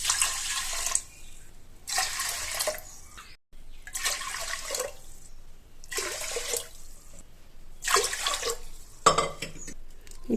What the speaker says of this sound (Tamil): இப்போ உளுந்து வேகிறதுக்கு ஒரு 5 கப் தண்ணி சேர்த்துக்குவோம்.